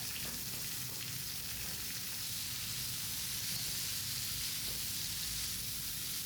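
Chopped papaya sautés in a pan with curry leaves, giving a faint, steady sizzling hiss throughout, with no voices.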